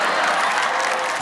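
Dense, continuous applause from a studio audience at an Urdu poetry comedy show, loud and steady with a hint of crowd noise.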